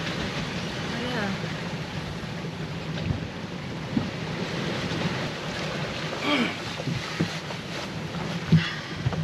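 A sailboat gets underway in an anchorage in about 30 knots of wind, with strong gusting wind buffeting the microphone, sloshing water and scattered knocks and creaks around the boat, while people talk intermittently.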